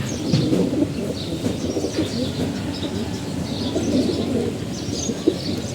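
A flock of pigeons coos in a dense, continuous murmur, with overlapping soft calls and occasional chirps and faint wing flaps close by.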